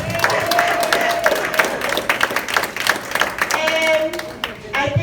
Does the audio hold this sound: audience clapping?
yes